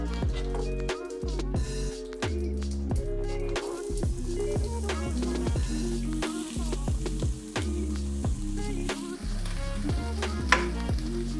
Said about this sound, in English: first we want to saute our vegetables, our onions, and our bell peppers